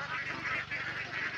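A large flock of farm ducks, around five hundred birds, honk and quack in a continuous overlapping chorus in the afternoon, steady and moderately close with no voices.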